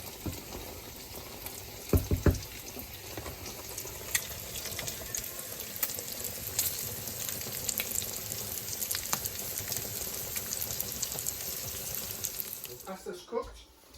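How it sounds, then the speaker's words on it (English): Bacon lardons frying in a pan for carbonara, with a steady close sizzle and crackle punctuated by a few knocks and stirring scrapes, ending in a brief splashing clatter. "I'm going to cook the bacon"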